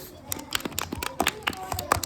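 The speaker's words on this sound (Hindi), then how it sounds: "ताली बजा दीजिए भाई" Children in a primary school classroom clap for a classmate, a short burst of uneven, close claps mixed with voices in the room.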